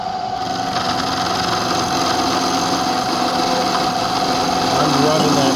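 A machine tool cuts an aluminum bearing retaining cap at 900 RPM without coolant, giving a steady, close mechanical whine with a constant tonal hum and faint cutting chatter that holds level throughout.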